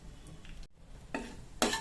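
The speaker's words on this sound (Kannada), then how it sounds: "ಈಗ ನೋಡಿ, ಎಣ್ಣೆ ಬಿಸಿ ಆಯಿತು. ಇದಕ್ಕೆ ನಾನೀಗ 1 ಚಮಚದಷ್ಟು ಜೀರಿಗೆನ ಹಾಕ್ತಿದ್ದೇನೆ" About a spoonful of cumin seeds hits hot oil for a millet upma, giving short bursts of crackling sizzle. A brief clatter of pan and spoon comes between the bursts.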